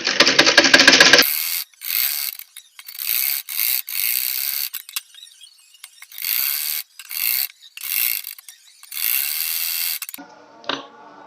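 A sewing machine runs a rough stitch on blouse fabric in several loud close whirring bursts of varying length separated by pauses, preceded by a brief rattling sound and followed at the end by a short clatter.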